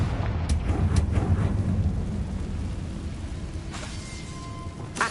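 A Confringo spell blast in Hogwarts Legacy rolls out as a heavy, rumbling low boom that swells and slowly fades, with a sharper crackle near the end and no voices.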